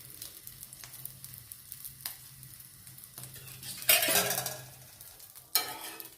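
A dabeli pressed and crisping on an oiled pan on the stove, a low steady sizzle with occasional scrapes, then a loud burst of hissing as more oil hits the hot pan, heard close with no talk.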